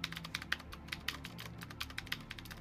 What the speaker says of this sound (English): You can hear that clicky-clacky noise because my keyboard is a mechanical keyboard